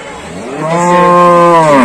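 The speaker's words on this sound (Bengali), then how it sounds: "বড় বড় গরুগুলো রয়েছে," A large cow at a busy cattle market lows once, a loud, close, drawn-out moo that swells and holds for over a second.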